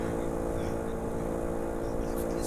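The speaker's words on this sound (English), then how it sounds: "Sounds more like a moped as well. It doesn't sound like a motorcycle." Small vehicle engine in the driving game The Long Drive, revving steadily with a buzzy, moped-like drone that holds constant pitch throughout the short stretch.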